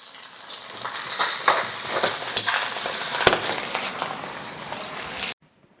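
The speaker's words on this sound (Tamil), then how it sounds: "அரை ஸ்பூன் டீஸ்பூன் வந்து கடுகு போடுறோம் உளுந்த பருப்பு ஒரு நூறு கிராம் கடலப்பருப்பு போட்டுக்கிறோம் இப்போ இந்த கூட பச்சை மிளகாய் கொஞ்சோண்டு" Mustard seeds, urad dal, chana dal and green chillies sizzle in hot oil in a large batch for mango rice, a steady close crackling fry with popping bursts and stirring, stopping abruptly near the end.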